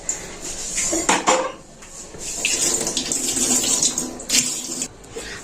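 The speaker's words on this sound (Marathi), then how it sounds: "ह्याच्यामध्ये आपण हे पाणी घेतलं या लोखंडाच्या कडेमध्ये एवढं" Water splashes and pours into an iron pan, with a few clanks of cookware between bursts of running water, close and fairly loud.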